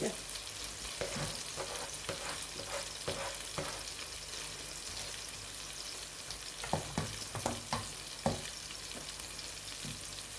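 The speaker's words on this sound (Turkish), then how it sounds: "Yani küfteler de burada kızarmak ister" Meatballs fry in a pan with steady crackling sizzle, a few louder pops and spatters standing out near the end, close by with no talking.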